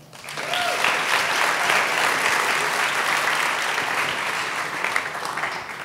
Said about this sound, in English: And you can clap for them as they come up.